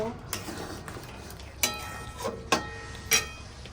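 Milk being mixed into a cauliflower and paneer curry in a pan, heard as a few sharp spoon scrapes and clinks against the metal over a low background, with no talking.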